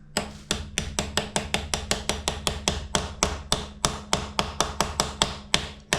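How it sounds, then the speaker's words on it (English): Rapid, even hammer taps ring out one after another, around four per second, sharp and close with no talking, gently driving a countershaft seal into a 2017 KTM EXC-F. "you just take the hammer and you'll just very gently just"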